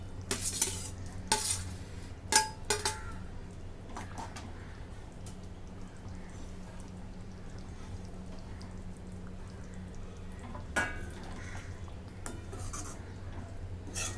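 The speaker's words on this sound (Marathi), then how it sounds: "आता मिक्स करून घेते आणि आता हे तळून घेतलेलं पनीर याच्यात टाकून घेते" Fried paneer being stirred into cooked mixed vegetables with kasuri methi in a pan, giving a few sharp spoon-on-pan clinks early on, then a soft, steady scraping and faint sizzle with occasional knocks.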